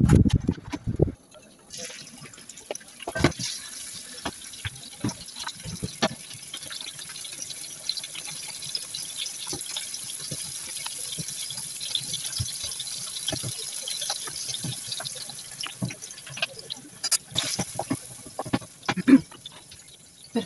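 Gnocchi boiling in a pot of cooking water, a continuous bubbling and crackling with scattered louder pops and clinks throughout, close and moderately loud, no voices.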